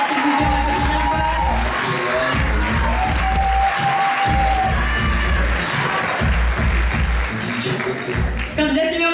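Theatre audience cheering and applauding a candidate at an evening show, loud crowd noise with whoops and rhythmic stomping or clapping beats, voices shouting throughout.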